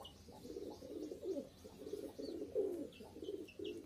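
Several pigeons cooing close by in soft, repeated throaty bursts, with a few faint higher chirps in the background.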